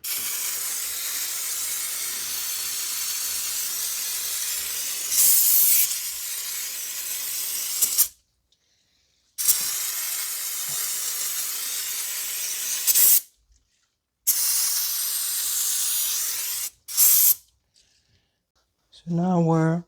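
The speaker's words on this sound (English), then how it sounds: "we're going to wash everything down with some brake cleaner" Brake cleaner sprayed onto engine parts of a 2005 Toyota Corolla 1.8 during an intake actuator solenoid and filter job, several loud, close, sustained aerosol hisses separated by short silences.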